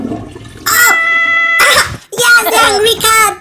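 An angry cat yowls and meows in loud, drawn-out wavering cries, with excited voices talking around it.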